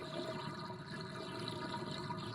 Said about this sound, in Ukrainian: Є, спустилась вода.